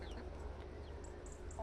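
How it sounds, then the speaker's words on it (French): Hens on a small farm clucking and murmuring close by, a steady low chorus of soft bird calls with a few sharper clucks standing out near the end. "Ça c'est des poules."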